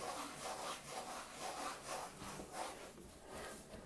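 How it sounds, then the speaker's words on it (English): A damp cloth wipes down the cabinet of a 1960s Gibson GA-5 Skylark amp in quick, rhythmic back-and-forth rubbing strokes, close and fairly quiet, with no voices. "Wipe it down."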